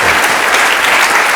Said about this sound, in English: how about a big round of applause for all these guys for getting it done?